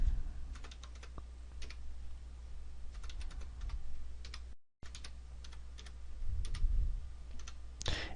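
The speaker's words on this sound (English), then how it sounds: "and then start typing in the data that's given." Quiet, steady clicking of computer keyboard keys being typed in bursts, close up, with a short break midway and no talking.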